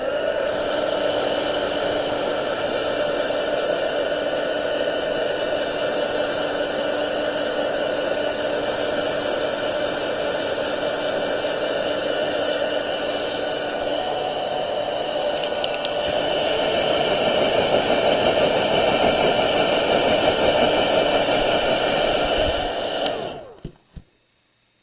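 A hair dryer dries paint on a rock with a loud, constant roaring hiss and a steady hum that swells slightly near the end before the dryer shuts off abruptly.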